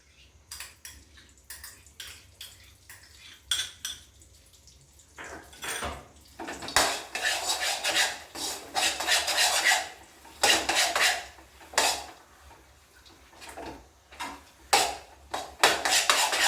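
A spatula scrapes and clatters against a pan while moong dal halwa is stirred with ghee, with irregular bursts of metallic scraping that grow busier and louder partway through, close up and with no talk.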